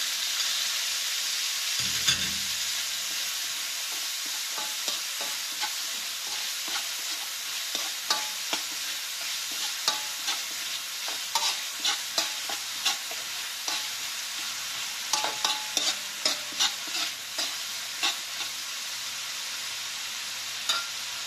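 Tomatoes stir-fry in a sizzling pan, a continuous hissing crackle punctuated by repeated clinks and scrapes of a spatula, close and without talk.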